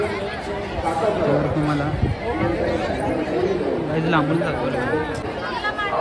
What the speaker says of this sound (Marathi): गुरुनाथ महास्वामींचं मंदिर आहे या ठिकाणी खूप गर्दी आहे